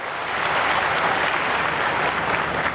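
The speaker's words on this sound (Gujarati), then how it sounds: "એકવાર જોરદાર તાળીઓ પાડી આપો" An audience at a Thakor community mass wedding ceremony bursts into loud, sustained applause, a dense wash of many hands clapping at a steady level throughout.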